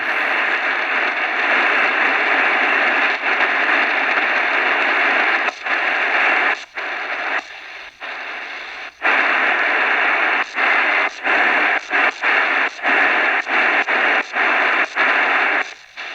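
A Baijiali BJL-201 AM FM shortwave radio hisses with loud, steady static while being tuned, the noise broken by repeated brief dropouts and clicks as the dial moves, with no voices.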